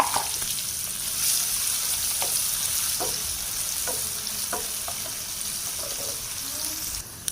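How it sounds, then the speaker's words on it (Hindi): Chopped onion sizzling in hot oil in a pan while cooking a chili curry (mirchi ka salan), a steady close frying hiss with occasional light stirring clicks throughout. "साथ ही चॉप किया हुआ प्याज डाल देंगे"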